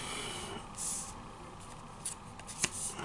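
Playing cards being shuffled close by in a quiet room, a few soft riffling bursts with a sharper snap near the end, faint and unaccompanied by talk.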